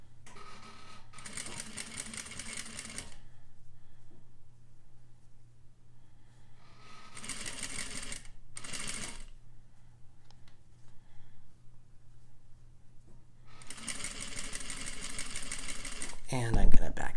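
Sewing machine stitching bias binding runs in steady buzzing bursts, short backstitch pauses breaking the rhythm, close and fairly loud, with quiet gaps between runs and a final clunk at the end.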